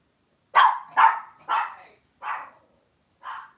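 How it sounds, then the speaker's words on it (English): A dog barks five times alone, in a quick series of sharp barks that fade in loudness and spread out toward the end, with no talk over them. "I'd bark too, dog."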